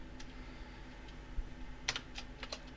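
Keys tap on a computer keyboard while entering HTML code, a few soft, irregular clicks with a small cluster near the end, faint and close in an otherwise quiet room.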